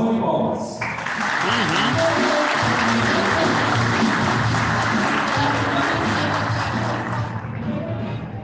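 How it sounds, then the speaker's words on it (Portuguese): A crowd applauds steadily for several seconds, a dense patter of clapping that starts abruptly and fades toward the end. "Uma salva de palmas."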